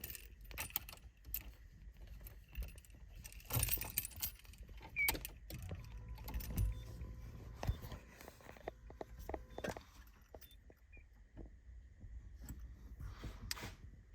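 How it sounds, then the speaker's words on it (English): Car keys jangling and clicking in the ignition of a Mazda FC RX-7 as the key is turned on, quiet and close with scattered metallic taps and rustles, no speech. "if I take my key and turn the key on"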